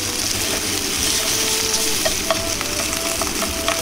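Noodles and meat frying in a pan for bamboo shoot yakisoba, a constant loud sizzle and crackle with small scrapes and clicks toward the end.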